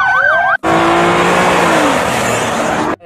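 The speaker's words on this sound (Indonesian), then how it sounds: "yang ini mobil polisi, teman-teman" A police car siren wailing in a rising and falling pattern, loud and close, then a steady car engine drone, likely a toy or game vehicle sound.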